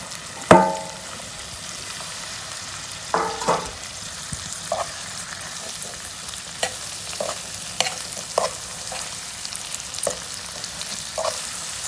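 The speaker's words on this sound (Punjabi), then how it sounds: "ਇਹ ਸਾਰੀਆਂ ਮਿਰਚਾਂ ਆਪਾਂ ਇਸ ਮਸਾਲੇ ਦੇ ਵਿੱਚ ਪਾ ਲਾਂਗੇ ਹੁਣ" Green chillies being stirred into a pickle masala for a red and green chilli pickle, giving repeated scraping and wet mixing strokes with soft sizzle-like crackle throughout, close by and without talk.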